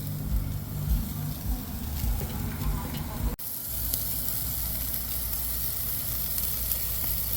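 Butter-basted lamb chops sizzling loudly on a Weber kettle grill, a dense continuous hiss and crackle that cuts off abruptly partway through, then resumes as a steady, slightly softer sizzle.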